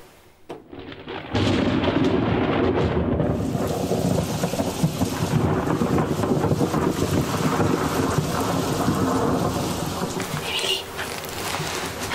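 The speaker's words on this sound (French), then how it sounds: "On est dans un orage." A thunderstorm in shepherd country: steady, loud rain fills the whole stretch with rumbling thunder beneath it, starting after a brief quieter moment and holding close and dense throughout.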